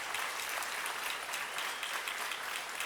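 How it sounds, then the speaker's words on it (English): Sustained audience applause filling a theatre hall, a dense, steady wash of clapping at constant loudness throughout with no voices on top. "a huge round of applause to ThankYouX and Josh Videos"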